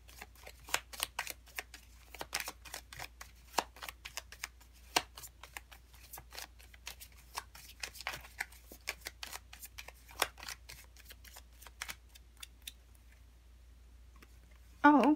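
Tarot cards are shuffled close by in a long run of soft, quick riffling snaps and clicks, irregular and fairly quiet, ending with a brief louder handling sound.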